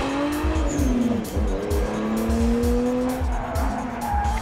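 A Nissan Skyline with four-wheel steering and all-wheel drive slides, its tires squealing loudly and steadily over a pulsing engine roar throughout.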